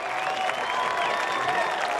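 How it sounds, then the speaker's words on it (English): Crowd of high school baseball fans at a state championship game applauding and cheering steadily, a broad even wash of clapping and voices from the stands. "the Effingham St. Anthony fans cheering every pitch"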